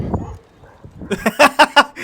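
A dog barks in a quick run of about five sharp, fairly close yelps, following a short stretch of low background noise and faint voices.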